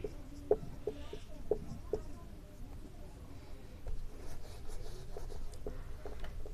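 Faint, intermittent scratching of math being written out on paper or a board during a class 11 lesson, soft strokes with brief pauses and a quiet background.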